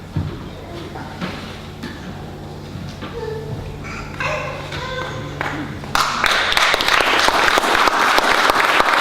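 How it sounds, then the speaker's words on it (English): Theatre audience at a forum theatre event bursting into applause after a play, loud dense clapping rising suddenly near the end, preceded by quieter shuffling, taps and soft stage sounds. "Seems kind of weird to applaud for that play"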